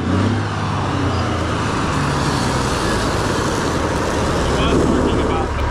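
A water truck pulls in and arrives at a ranch, its engine making a loud, steady low rumble with a broadband roar that carries on without a break, close to the listener.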